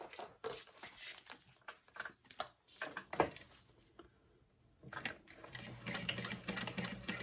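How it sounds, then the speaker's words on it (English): Home sewing machine stitching a wristlet clutch's fabric lining at a quarter-inch seam, heard as close bursts of rapid mechanical ticking that stop and start, with a steadier run near the end. "we're sewing at 1/4 inch"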